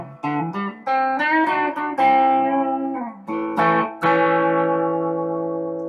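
An electric guitar runs through a Behringer Vintage Tube Overdrive pedal into a Fender Deluxe Reverb amp, playing mildly driven, bright chords and single notes that ring out and sustain, with no talking.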